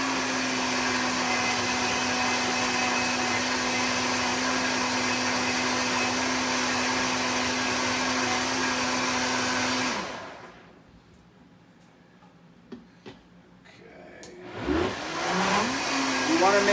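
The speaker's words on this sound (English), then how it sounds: "And we're gonna go ahead and finish blending this up." A blender whirs loudly and steadily while blending a green smoothie of leafy greens, then cuts off, leaving quiet handling sounds and a person talking.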